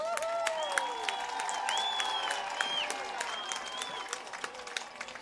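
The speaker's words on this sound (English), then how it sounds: "Let's give them a round of applause." A crowd at a high school football game applauds the school band, steady clapping and some cheering mixed with whistles and scattered voices, spread wide and moderately distant.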